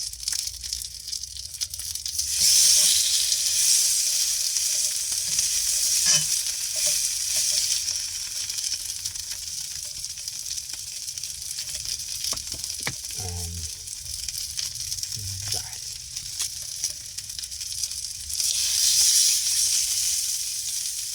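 Food lies untouched in a skillet so its skin crisps underneath, giving a loud, steady sizzle that swells at the start and again near the end, with a few faint knocks and scrapes in between.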